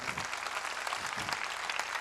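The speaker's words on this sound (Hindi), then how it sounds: "जोरदार तालियां बजाएं।" A congregation at a Wednesday church prayer meeting gives continuous, hissing applause: many hands clapping at once in an even, sustained wash with no gaps.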